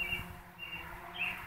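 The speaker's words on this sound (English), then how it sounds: "Little laughing bird." A small bird chirps in a quick, laughing run of tweets, moderately close and alone, with a brighter burst of calls near the end.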